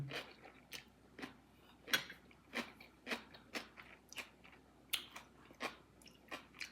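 Close, crisp crunching from someone chewing a spicy green papaya salad, a steady run of about a dozen sharp bites and chews in quick rhythm against a quiet background, with no talking.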